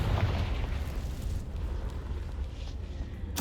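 Confringo fire spell going off in the Hogwarts Legacy video game, a sustained loud rumbling blast with crackling low roar across the whole stretch, no talk.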